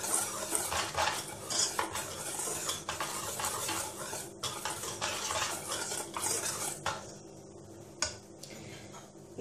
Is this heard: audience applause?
no